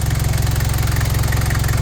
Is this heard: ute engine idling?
yes